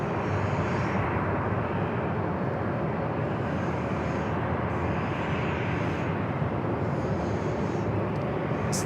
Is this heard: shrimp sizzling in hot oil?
no